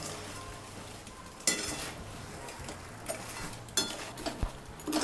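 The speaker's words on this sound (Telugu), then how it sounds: "పాకం అంతా ఈ బ్రెడ్ ముక్కలకి పట్టేటట్టు మొత్తం కలుపుకోవాలి." Bread pieces being mixed through sugar syrup in a pan, with soft wet scraping and stirring sounds punctuated by a few sharp clinks of the spoon against the vessel, close and fairly quiet with no talking.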